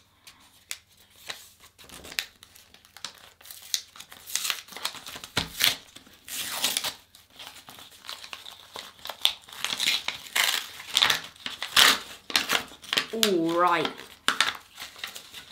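A paper envelope holding limited edition football sticker cards is torn and crinkled open in irregular bursts of ripping and rustling, close up, with a brief spoken word near the start.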